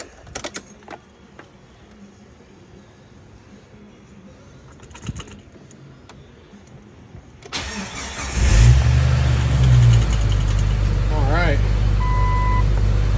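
A Jeep Wrangler TJ, low on gas and just fitted with a new fuel pump, starts after a quiet stretch of clicks and handling, then settles into a loud, steady idle close up.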